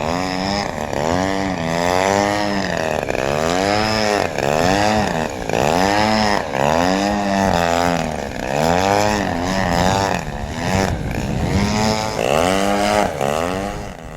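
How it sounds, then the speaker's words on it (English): A very large 40% scale RC model aircraft engine flying overhead, its buzzing tone rising and falling over and over as the throttle is constantly worked, loud and continuous with no talk. "As you can hear, the throttle is constantly moving to maintain good altitude."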